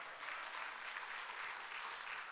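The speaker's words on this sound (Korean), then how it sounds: "믿으시면 하나님께 영광의 박수 올립니다" Church congregation applauding during a Korean sermon, a steady dense wash of many hands clapping together at close range, with no voices on top.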